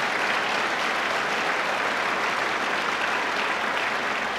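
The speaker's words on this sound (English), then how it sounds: "And let's give him a round of applause, Tony Collins." Even, continuous round of applause from an audience honoring Tony Collins, dense clapping at steady loudness with no talk over it.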